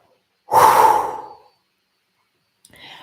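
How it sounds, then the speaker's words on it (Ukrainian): A single long breath is pushed out through the mouth, close and breathy, lasting about a second before fading, followed by a faint short breath near the end. "Видих через рот."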